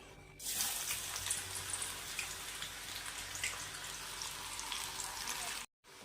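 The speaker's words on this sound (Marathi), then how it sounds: "कांद्याला असं परतून घ्यायचं आहे" Finely chopped onion hits hot oil in a pan while cooking a dry urad dal dish, giving a loud, steady broadband sizzle that starts abruptly and runs continuously, briefly cutting out near the end.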